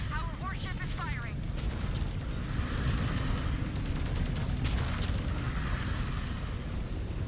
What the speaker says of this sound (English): Our warship is firing.